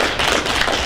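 A brief burst of dense audience applause for a trades career panel at a school event, loud and close, with clapping packed together and no talk over it.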